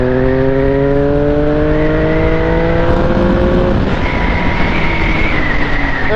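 A 1050 RS motorcycle engine runs close and loud, its steady drone rising in pitch as it revs through the gears and then settles into a higher sustained tone.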